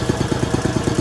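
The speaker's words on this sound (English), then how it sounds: "Compressor just came on" A piston air compressor kicks on in a home garage, throbbing with a fast, steady, low chugging pulse close by.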